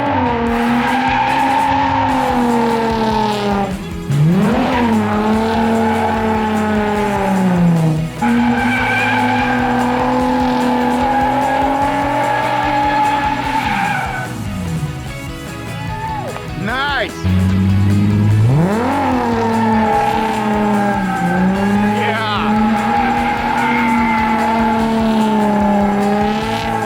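A car drifting with long, loud tire squeals and skids over a revving engine that rises and falls across repeated slides, with voices talking over it.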